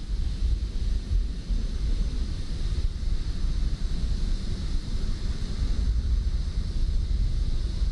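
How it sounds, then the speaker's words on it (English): A steady, dense jet engine roar from an airliner in Microsoft Flight Simulator fills the whole stretch, a constant loud rumble with broad hiss and no voices. "jet engine noises"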